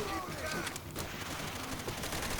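Gunfire in the World War II shooter game Call of Duty: World at War, a dense, steady fusillade of rapid shots at constant loudness, with someone talking over it.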